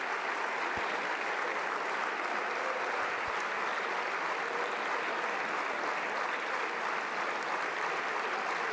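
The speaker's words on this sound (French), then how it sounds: "Pourquoi tout le monde se met debout pour l'applaudir?" A crowd stands and applauds French Prime Minister Michel Barnier after his final speech: a continuous, uniform wash of many hands clapping, steady throughout with no speech over it.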